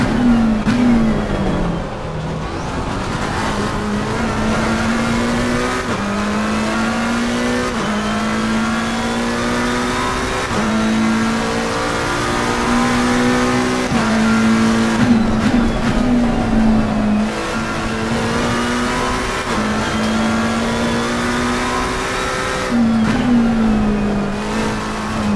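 A race car laps the Circuit of the Americas in Assetto Corsa Competizione, its engine droning loud and close as it rises and falls through repeated gear changes and lifts for braking, with no talk.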